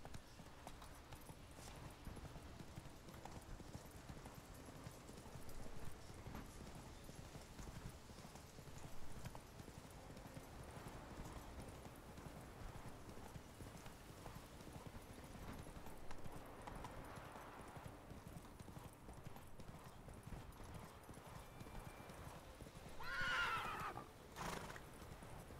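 Roach the horse in The Witcher 3: Wild Hunt, out in Skellige, gallops with a steady run of hoof clip-clops, and a loud whinny rings out near the end over the rhythmic hoofbeats.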